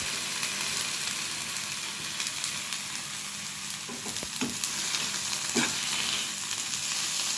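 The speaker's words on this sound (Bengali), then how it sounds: "ফুল আর আলু ভাজা ভাজা হয়ে গেছে। এবার আমি এই পোস্তটা দিয়ে দেব।" Drumstick flowers and potatoes fry in a pan with a steady, loud sizzle, broken by a few spoon or spatula knocks as poppy seed paste goes in; no one speaks.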